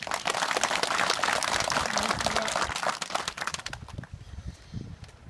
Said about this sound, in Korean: 큰 박수로 격려해 주시기 바랍니다